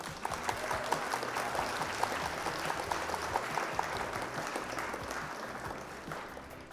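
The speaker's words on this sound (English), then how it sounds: "Round of applause for our opponent" Steady applause from a group, a continuous even patter of clapping that holds for several seconds without pause.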